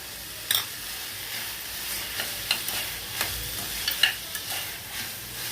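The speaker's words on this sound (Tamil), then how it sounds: "இதெல்லாம் நல்லா வதங்கணும் இந்த ரா ஸ்மெல் வந்து போகணும்" Spices with ginger-garlic paste sauté in a pan for fenugreek rice, making a continuous sizzle broken by sharp scraping strokes and light taps of stirring, close and alone without speech.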